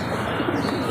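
Pigeons coo in a low, continuous throaty murmur close by in a home pigeon loft, with faint chirps mixed in.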